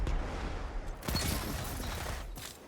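Submachine gun fire in the video game Destiny 2, a short burst of rapid shots starting after a brief lull, fairly quiet and close over a low background rumble.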